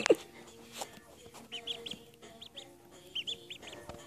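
Newly hatched ducklings in a brooder make short high peeps in small clusters, fairly faint and close, with quiet gaps between and no talking.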